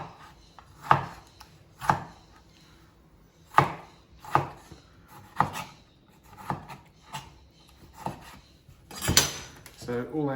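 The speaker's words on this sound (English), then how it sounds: "just dice these up as so, without slicing your fingers off" A knife dices vegetables for chilli con carne, crisp blade strikes on a cutting board coming roughly once a second, close and distinct, with a clatter near the end.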